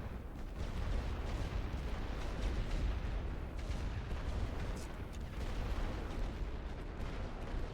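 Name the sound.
artillery fire in The Great War: Western Front video game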